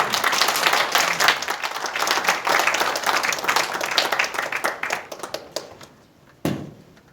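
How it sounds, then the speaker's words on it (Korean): An audience at a church gathering claps in welcome, a lively burst of applause that thins into scattered claps and fades, with a single sharp tap near the end. "예, 박수로 맞이하겠습니다."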